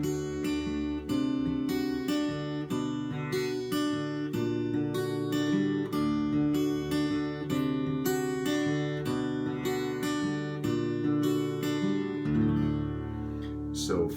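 Fingerpicked acoustic guitar playing the verse of a song in drop D tuning, a steady rolling arpeggio over a descending bass line, close and clear with no talking.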